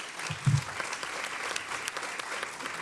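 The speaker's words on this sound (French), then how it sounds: "je voudrais qu'on applaudisse tous nos intervenants qui ont été formidables." A brief burst of audience applause, dense clapping at moderate volume with a low thump near the start.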